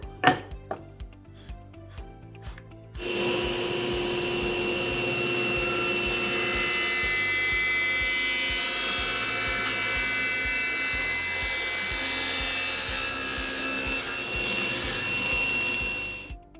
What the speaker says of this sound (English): My next step then is to cut that taper.